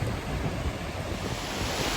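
Ocean surf rolls in at a beach where kids play in the waves, a continuous broad wash of breaking water mixed with strong wind buffeting the microphone.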